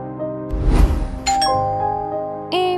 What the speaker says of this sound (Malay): Bunyi loceng.